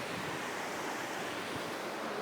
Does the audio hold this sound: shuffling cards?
no